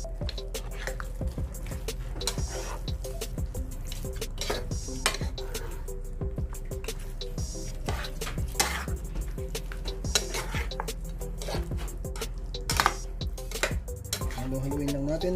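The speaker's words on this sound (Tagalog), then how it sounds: "Haluin lang natin para maluot sa chicken yung ating cream." Creamy chicken mushroom being stirred in a pan, with repeated wet squishing scrapes and utensil clicks against the cookware over a steady low hum, close up and without talk.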